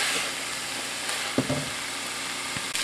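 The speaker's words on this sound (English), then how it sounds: "you're going to cook all this wine off. Wine, onions, garlic, and celery." Wine, onions, garlic and celery sizzling in a pan for mushroom risotto, a steady close frying hiss with a few soft stirring knocks and no talk.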